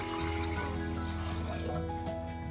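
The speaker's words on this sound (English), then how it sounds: "I'm just going to fill my pot with water" A cooking pot filling with water from a kitchen tap, a steady rushing stream with faint tonal ringing from the pot, continuous and close throughout.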